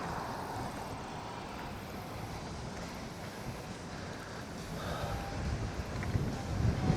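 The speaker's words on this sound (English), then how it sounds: "Wow, it is really getting windy." Steady, broadband wind on the open plains of Kansas rushing and buffeting against the microphone, continuous throughout and growing a little stronger toward the end.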